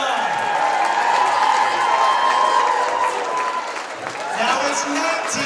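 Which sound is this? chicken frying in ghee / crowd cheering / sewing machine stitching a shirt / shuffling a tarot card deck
crowd cheering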